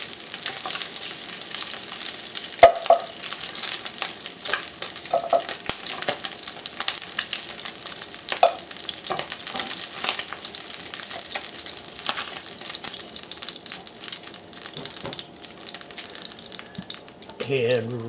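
Turkey pieces browning in a pressure cooker, a dense continuous sizzle and crackle with scattered faint scrapes and one sharp knock, steady throughout at close range.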